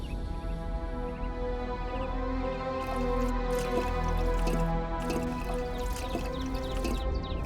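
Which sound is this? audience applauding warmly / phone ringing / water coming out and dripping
water coming out and dripping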